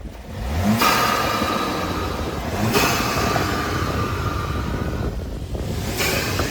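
VW Golf GTI Mk8 fitted with an APR 034 Motorsports intake, revving in sport mode, rising into three loud surging revs that fall back between pushes, close and with no talk over it.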